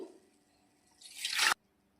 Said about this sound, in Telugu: అటుకులను ఇలా శుభ్రంగా కడుక్కొని స్ట్రైనర్లో వడకట్టుకోవాలి